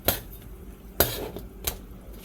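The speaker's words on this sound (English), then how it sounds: "I just let my honey mixture come to a nice boil or simmer, and then I just start putting my pork chops in here one by one." Pork chops go one by one into a pan of simmering honey garlic mixture, with three sharp metallic clanks of utensils against the cookware over a quiet background.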